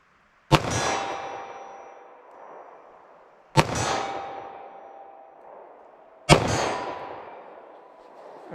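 Three slow-fire .38 Special revolver shots at a 25-yard range, each a sharp loud crack with a long ringing decay, spaced about three seconds apart with no talking.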